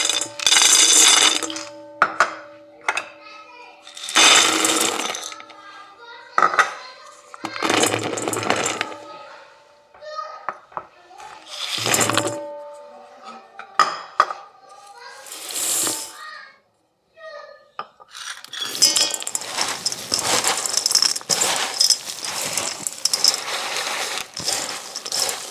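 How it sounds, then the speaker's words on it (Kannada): Sesame seeds, jaggery and sugar for Ellu Bella are poured one after another into a bowl, giving bursts of rattling, pattering grains between quiet gaps, then a longer stretch of rustling and clinking as everything is stirred together. "ಬನ್ನಿ ಇವಾಗ ಒಂದೊಂದಾಗಿ ಹಾಕಿ ಎಲ್ಲನೂ ಮಿಕ್ಸ್ ಮಾಡ್ಕೊಳ್ಳೋಣ"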